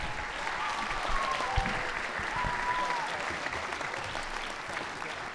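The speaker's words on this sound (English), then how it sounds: "Another round of applause, please." A round of applause from a school winter concert audience after the jazz band's set, dense sustained clapping filling the hall, with a brief whistle or two riding over it.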